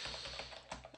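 Computer keyboard typing, a quick run of light, fairly close keystrokes at an uneven rhythm, heard alone without any voice.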